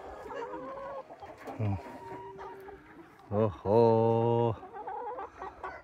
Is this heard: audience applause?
no